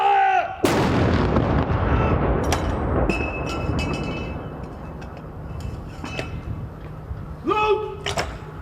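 A ceremonial artillery gun salute fires once with a loud, close boom and a long rolling echo fading over several seconds, followed by faint clinks; no talk during the shot.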